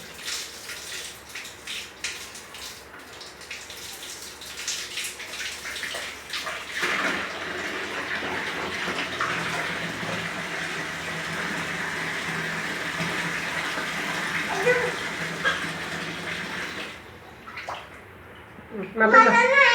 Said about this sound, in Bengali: আমি স্নান করবো, তুমি মাথায় জল দাও।